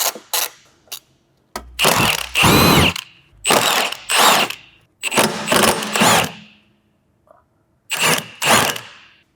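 A ratchet wrench removing transmission brace nuts and bolts under an Audi Q5, heard as several close, loud bursts of rapid clicking separated by short pauses.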